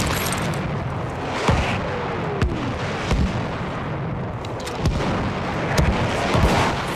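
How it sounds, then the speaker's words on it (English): Enemy artillery barrage in Battlefield 1, a steady dense roar of distant shelling with repeated sharp booms and explosions scattered throughout. "Wait for the enemy artillery barrage to stop firing."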